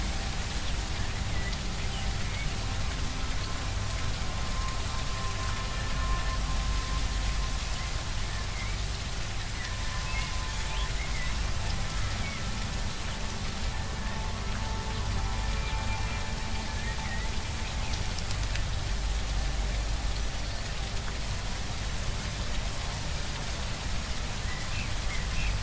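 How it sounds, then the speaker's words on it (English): Steady rainfall in the zombie survival game HumanItZ, a continuous hiss of drops pattering on surfaces that stays even and unbroken throughout, with no voices over it. "Well, maybe that rain will help the crops grow?"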